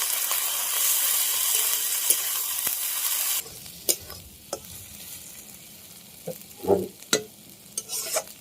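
Ground cumin, coriander and dry chili spice paste frying loudly in a pan, a dense steady sizzle that drops sharply halfway, leaving quieter crackles and stirring scrapes with bursts of spitting.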